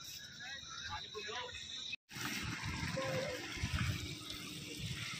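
Water sprayed over boxes of coriander loaded in a truck, a steady close gushing hiss that runs almost throughout, briefly cut off partway, with a voice talking over it.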